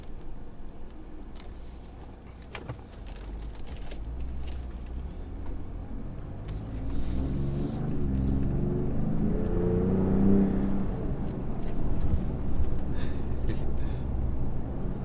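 A Ford Raptor pickup truck rolls over a bumpy parking lot, its steady engine hum and road rumble swelling slightly as it moves, with faint rattles and knocks from the bumps.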